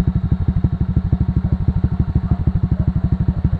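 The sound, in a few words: motorcycle idling with T4S exhaust pipe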